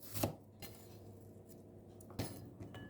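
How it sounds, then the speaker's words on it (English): A knife chops garlic cloves on a board with a few distinct, sharp knocks, one early and one near the end, with a faint rumble and light clatter in between, close and fairly quiet. "2 to 3 cloves of garlic, minced or chopped."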